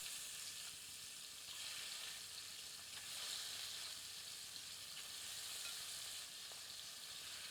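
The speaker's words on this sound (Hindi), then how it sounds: "मध्यम आंच पर चिकन को मक्खन में अच्छी तरह भूनते हैं।" Chicken pieces fry in hot butter over medium heat, giving a steady, soft, hissing sizzle that carries on evenly throughout with no talking.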